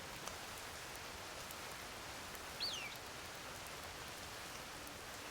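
Steady, soft rain falling in the video game The Pathless, an even hiss of drops on surfaces throughout, with a brief faint bird-like chirp near the middle.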